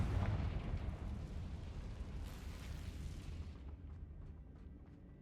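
A Confringo fire spell in the Hogwarts Legacy video game goes off as a loud, close explosive burst, then a rumbling roar that fades over several seconds.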